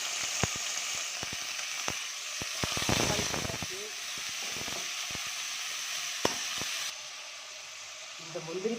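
Green chillies and mint leaves frying in a pan for biryani, making a continuous close sizzle and hiss broken by sharp clicks of stirring and scraping, and a voice is heard briefly.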